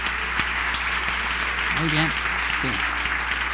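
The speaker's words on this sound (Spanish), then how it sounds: "Un aplauso fuerte al Señor." A church congregation claps for the Lord during a service, steady broad applause running throughout, with someone briefly speaking over it.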